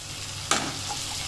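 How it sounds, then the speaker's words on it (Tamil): A small tomato frying with crushed ginger and garlic in a pan, a steady sizzle interrupted by one quick scrape of a spoon. "இப்போ தக்காளி வந்து நல்லா வதங்கி வந்துருச்சு"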